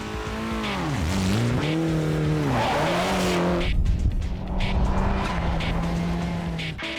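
Rally cars on a tarmac street stage of the Rally of Coromandel roar through gear changes, tyres squealing as they skid past, loud and close, with no voices.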